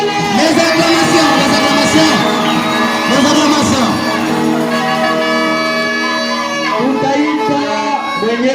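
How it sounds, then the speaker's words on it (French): A church congregation at a Sunday service celebrating a pastor's anniversary cheers and shouts, loud and continuous, with whoops and voices rising and falling throughout and little sign of distinct clapping. "Pika mikono na vikelele. Les acclamations."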